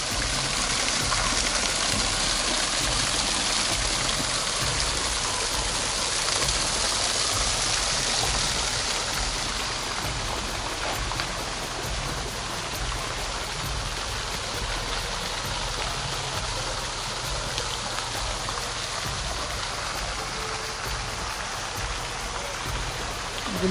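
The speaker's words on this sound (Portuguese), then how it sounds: "Esta aqui é da queda d'água." Waterfall at a safari park in the Alentejo, Portugal, pouring as a steady, dense broadband rush that holds constant throughout with no voices over it.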